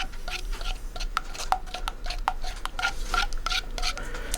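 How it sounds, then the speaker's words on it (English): A tool stirs and mixes sculpting material with repeated scraping, tapping and rubbing strokes that sound close and steady, with no talking. "You gotta go all around, make sure everything is mixed."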